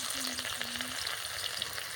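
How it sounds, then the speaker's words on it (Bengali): Chopped onion frying in hot oil in a wok, giving a steady close sizzle with a dense, even crackle that holds at a constant level throughout. "কড়াইয়ের মধ্যে তো তেল ছিল সেই তেলের মধ্যে আমি দিয়ে দিচ্ছি পেঁয়াজ কুচি"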